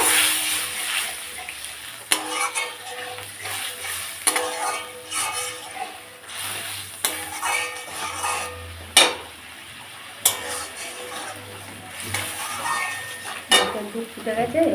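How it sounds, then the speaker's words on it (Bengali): Coconut milk poured into spiced oil in a pan sizzles steadily, with repeated scraping stirs and clinks of a spoon against the pan throughout, close and fairly loud. "মশলা তেল ছেড়ে দিয়েছে, আমি এবার নারকেলের দুধটা দিয়ে দিলাম।"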